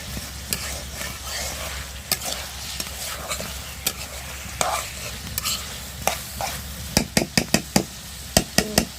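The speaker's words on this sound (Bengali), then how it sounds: "আলুটা একটু কষাই নেব, মানে একটু যেন ভাজা ভাজা হয়, নেড়ে তারপরে কষাই নেব।" Potatoes are stirred and fried in leftover fish gravy in a pan, a low sizzle beneath irregular spatula scrapes and clacks that grow quicker and sharper toward the end.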